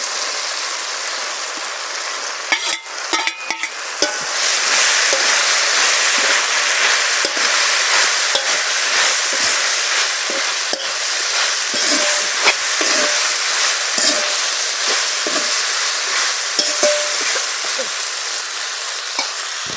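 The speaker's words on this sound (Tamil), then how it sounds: "இப்போ கத்திரிக்காயை போட்டு அப்படியே மிக்சி" Brinjal goes into a hot pan and is stirred and fried, giving a loud, steady sizzle with scattered scrapes and clinks of a spoon, preceded by a few seconds of rattling as the pieces are added, and no voices.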